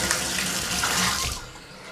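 Water gushes from a tub spout into a bathtub during a test after a tub and shower valve replacement, a loud, close, steady splashing rush that eases off toward the end.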